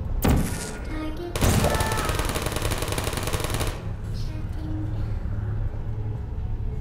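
Automated turret gunfire in Portal: a loud, rapid mechanical burst rattling for a couple of seconds after a short first volley, then fading into a quieter hum.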